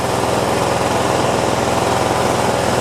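Kawasaki FC420V engine on a John Deere 170 lawn tractor running steadily at idle, a continuous close-up mechanical drone with an even, unbroken rumble throughout.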